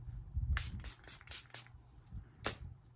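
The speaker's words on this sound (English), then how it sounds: "So I'm gonna be using this setting spray that I got at the Dollar Tree again." Several short, airy spritzes of a Dollar Tree makeup setting spray bottle, bursts of hiss spaced irregularly, the last one louder and close by, amid quiet handling noise.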